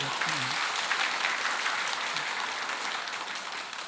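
A church congregation applauds during a morning worship service, a steady medium-loud patter of many hands that tapers slightly over a few seconds, with a brief voice at the start.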